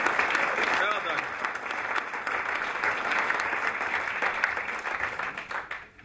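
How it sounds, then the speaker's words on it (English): An audience at the Scottish Land-based and Aquaculture Learner of the Year 2010 award ceremony gives sustained, dense applause that fills the room for several seconds before tapering off. Speech is mixed in. "give her a round of applause"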